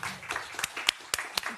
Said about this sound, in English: I would like another round of applause for the panelists here today.